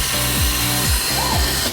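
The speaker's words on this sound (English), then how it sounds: "Drilling the holes and insert the E-clips" An automatic CNC machine drills holes in a cabinet panel with steady mechanical whirring, sweeping tones, and repeated short drilling passes, loud and close with no voices.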